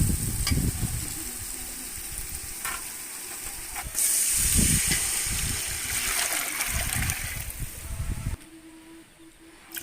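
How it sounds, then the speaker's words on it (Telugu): Water is poured into a pot of fried spices for vegetable biryani over a village wood-fired stove, producing a steady, close hiss and bubbling sizzle that stays strong for several seconds before suddenly dropping away. "ఇప్పుడు వాటర్ పోసుకోవాలి"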